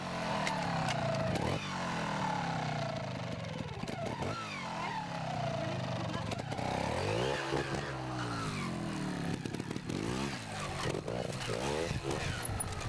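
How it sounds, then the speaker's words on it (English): A trials motorcycle engine starts and runs at a youth trials competition, revving up and down in repeated bursts with rising and falling pitch, fairly close, under a commentator's continuous speech. "Start your engine, over to Jane"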